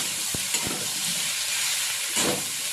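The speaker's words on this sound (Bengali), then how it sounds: "তো মোটামুটি ভেজে নেওয়ার পর এবারে এর মধ্যে দিয়ে দিচ্ছি বেগুনটা" Eggplant pieces tipped into potatoes and onions already frying in hot oil, a steady loud sizzle with a few clunks and stirring scrapes in the pan.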